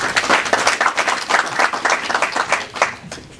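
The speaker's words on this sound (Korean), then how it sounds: "김진영 소장님을 박수로 모시겠습니다." An audience at a forum applauds to welcome a speaker to the stage, dense close clapping from many hands that pulses slightly and carries on steadily for a few seconds.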